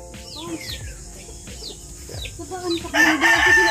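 Chickens cluck and a rooster crows, with repeated calls rising over a busy farmyard background and a louder burst of crowing toward the end.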